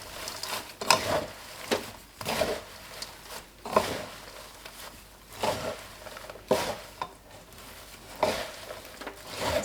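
Fried noodles being tossed and stirred quickly with hot sugar syrup for homemade sachima, giving repeated sticky scraping and clacking bursts in an irregular rhythm, close and moderately loud, no voices.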